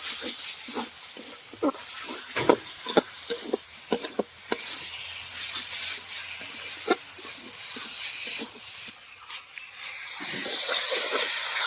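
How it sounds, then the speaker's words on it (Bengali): Jackfruit and chicken being stirred with frying spices in a pan, steady sizzle and hiss broken by repeated scraping strokes of the spoon, close and fairly loud with no talking. "ভালো করে নেড়ে নেব মশলার সঙ্গে।"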